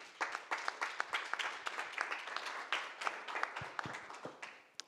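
An audience applauds at a forum on indigenous peoples and Mother Earth, producing a steady patter of many hands clapping at moderate distance, fairly soft, with no voices.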